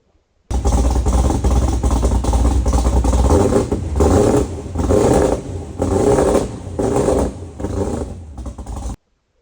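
A small-block car engine with quad center exhaust rumbles loudly and steadily with a deep exhaust note, rising in several revving surges before cutting off.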